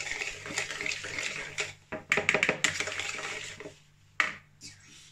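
Water poured into a frying batter mix for crisp fried calamari while it is stirred: soft liquid splashing and light scraping in a bowl, fairly quiet, with a few clinks.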